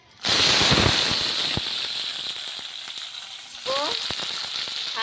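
Bitter eggplant drops into hot oil in a pan with a sudden loud burst of sizzling that settles into steady frying, then flares up again with sharp crackles and spits partway through.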